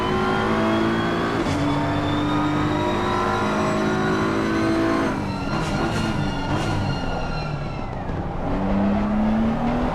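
A race car in an Xbox racing game powers up the hill at Spa, its engine whining loud and steady through gear changes, with brief dips as it shifts and climbs again, no voices.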